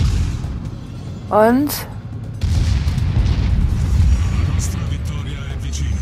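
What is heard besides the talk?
enemy ship firing HE shells in video game World of Warships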